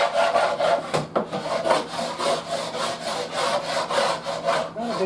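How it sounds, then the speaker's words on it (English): A scraper pushes chemically stripped paint off oak cabinets in rhythmic, repeated rasping strokes, close and fairly loud, with a sharp knock near the start. "Now I'm just going to scrape the whole thing."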